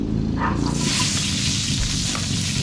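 Garlic fries in a hot pan with a continuous, close crackling sizzle that stays steady throughout, with light stirring and no talking.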